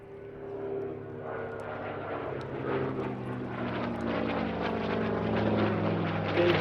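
A Hawker Fury propeller fighter flies a display at the Sywell air show, its engine a steady, loud drone that grows slightly stronger across the clip, with no voices over it.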